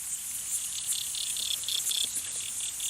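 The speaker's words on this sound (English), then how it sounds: "A whole bunch of them stridulating together, a cacophony, a chorus, an underwater chorus" Aquatic insects stridulate underwater in a raw field recording, many chirping together in a cricket-like chorus of rapid high-pitched pulses over a faint hiss.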